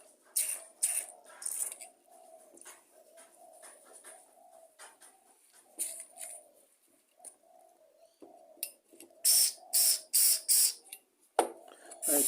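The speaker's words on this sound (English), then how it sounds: "give them a good spray out with your carb cleaner" Carburettor cleaner is sprayed into the jets of a Quantum carburettor in short hissing bursts, a rapid cluster of several sprays near the end, over a constant low cooing of pigeons.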